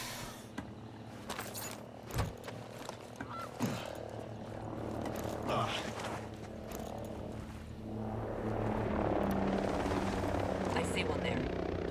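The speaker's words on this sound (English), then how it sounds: "Helicopter, get low." A helicopter flies nearby in the video game Ghost Recon Breakpoint, its rotor drone and engine rumble building steadily louder toward the end, with game sound effects and voices speaking over it.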